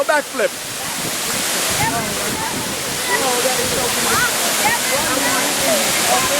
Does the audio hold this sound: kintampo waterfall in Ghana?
yes